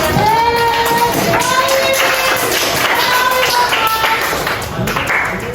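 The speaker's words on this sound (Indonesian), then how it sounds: "Silakan beri tepuk tangan untuk Karoli" Clapping in a classroom for the group named Karoli, loud taps of hands mixed with children's voices that carry on throughout.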